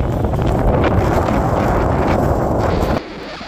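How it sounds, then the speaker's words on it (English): Strong gusty coastal wind at Beaumaris during a storm, buffeting the microphone in a loud continuous roar that drops away abruptly near the end. "just checking the wind, it is a bit gusty as you can see"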